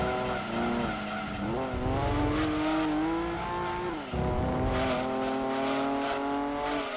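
A Chevrolet Camaro and other racing cars in Gran Turismo 2 drone steadily, with engine pitch rising and falling through gear changes and a brief dip midway.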